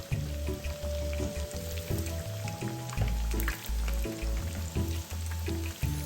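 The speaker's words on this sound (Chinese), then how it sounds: "接着继续油炸至金黄色，" Battered eggplant fritters deep-frying in oil until golden, a dense continuous bubbling sizzle, loud and close, with faint low hum beneath and no voices.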